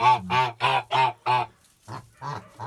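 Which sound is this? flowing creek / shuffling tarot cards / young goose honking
young goose honking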